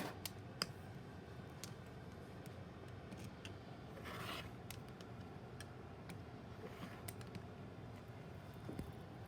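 A fabric quilt block is trimmed, with faint, close scraping and light cutting strokes, a few soft ticks and one brief rasping sweep over a quiet room background.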